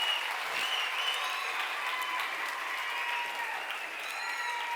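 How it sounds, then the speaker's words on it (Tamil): Sustained applause from a seated audience welcoming the chief guest at a police inspector's motivational talk, steady and dense throughout with no voices over it. "அந்த விதத்தில் ஒரு நல்ல பலத்த கரவொலியை கொடுத்துடலாம்"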